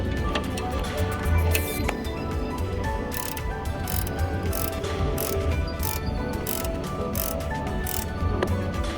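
A ratchet clicks in repeated short bursts while tightening the main mounting bolt of an alternator on a Carrier or Thermo King reefer unit during drive belt adjustment, the mechanical clatter steady and close with no talking.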